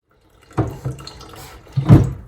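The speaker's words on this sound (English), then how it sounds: "Now I'm gonna add water." Cold water poured from a tap onto rinsed Japanese rice in a pot, coming in two short splashing gushes separated by a quieter trickle, close and with no talking.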